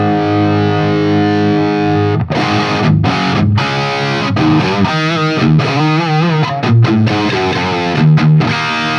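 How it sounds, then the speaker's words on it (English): An electric guitar runs through a budget Amazon overdrive pedal into an already distorted amp, playing loud, saturated chords and riffs with brief choppy stops, close and dominant with no voices. "But when it's in front of a distorted amp already, it adds more gain."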